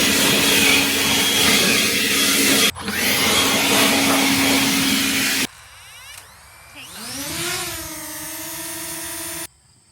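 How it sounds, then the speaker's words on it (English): Battery-powered leaf blower running off an EcoFlow River 2 power station, blasting debris off a lawn mower outdoors; a loud steady roar with brief dips, then a lower whine that rises and holds before cutting off. "So let's now blow off my mower."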